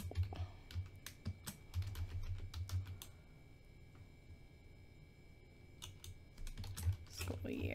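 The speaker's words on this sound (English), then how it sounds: "Type in a subject." Clicking keystrokes on a computer keyboard while entering an email subject line, coming in quick bursts with a pause in the middle, fairly close and moderately quiet, with faint talk in the background.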